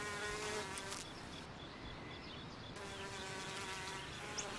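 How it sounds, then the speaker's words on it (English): A honeybee foraging on a purple cuphea flower gives a steady, close insect buzz that holds throughout, briefly dropping in intensity midway before returning at full strength. "This honeybee is collecting nectar from a purple kufia flower."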